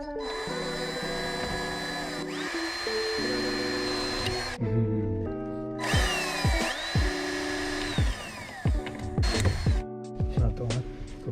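A power drill drives and backs out screws while a van is fitted out, whirring in bursts that rise and fall in pitch, with short pauses and clicks between runs.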